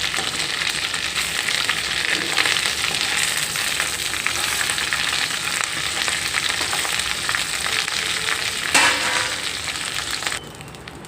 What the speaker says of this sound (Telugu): ఇదిగోండి ఇలాగా దోరగా వేయించుకోవాలి. వేగిపోయిందండి కరివేపాకు.